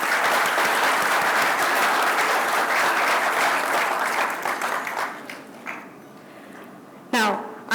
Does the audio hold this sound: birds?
no